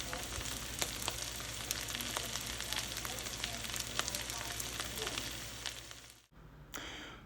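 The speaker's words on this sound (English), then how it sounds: "So here I go frying them up in the pan." Pierogies frying in bacon grease in a pan, a dense continuous sizzle with scattered pops and crackles, close and steady, cutting off abruptly near the end before resuming briefly.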